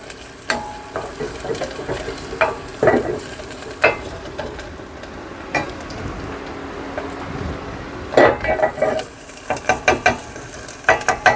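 Garlic and tomato paste get stirred in a hot frying pan, a spoon scraping in irregular bursts over a low, steady sizzle, close and moderately loud with no voices.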